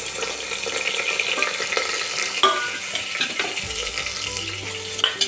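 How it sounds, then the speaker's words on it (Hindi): Chopped onion frying on medium flame in a pressure cooker for veg biryani, giving a steady, close sizzle with occasional stirring scrapes and clinks throughout, with no talking. "इसको हम मीडियम फ्लेम पर गोल्डन ब्राउन होने तक प्याज को भूनेंगे"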